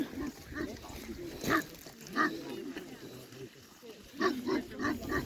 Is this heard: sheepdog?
yes